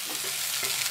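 Mackerel with dill goes into a hot frying pan, a brief, steady sizzle of fat with no voices.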